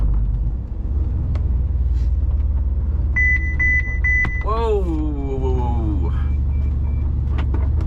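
A truck's collision warning sounds a rapid series of high electronic beeps for about a second over a loud, steady engine rumble on a motorway, followed by a short vocal sound.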